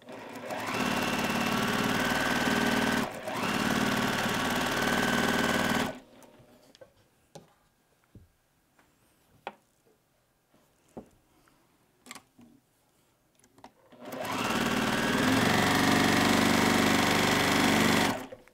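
A sewing machine stitches pieced quilt blocks for an I Spy quilt, running in two loud sustained bursts separated by a quieter stretch of soft handling clicks and fabric rustle.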